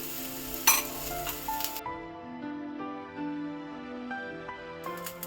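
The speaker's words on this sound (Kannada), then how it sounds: "ಈರುಳ್ಳಿ ಚೆನ್ನಾಗಿ ಫ್ರೈ ಆಗಲಿ" Onions sizzle in hot oil with curry leaves and dried chilies, a continuous close frying hiss with clinks and scrapes of a spoon against the pan, no voices.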